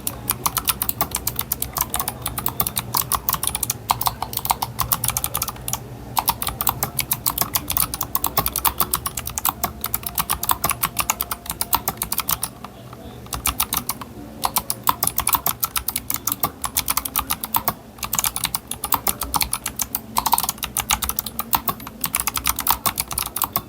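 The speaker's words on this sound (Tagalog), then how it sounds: "Sound check natin yung keyboard" Steady, loud clatter of typing on a computer keyboard, fast continuous keystrokes close up for over twenty seconds with only brief gaps, no talking.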